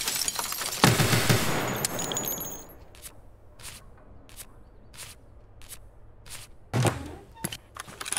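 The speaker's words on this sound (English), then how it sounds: "All my shots hit him, I can't even go through them." Gunfire in the video game Escape from Tarkov, an opening loud burst of automatic fire followed by a string of separate sharp single shots, some near and some more distant.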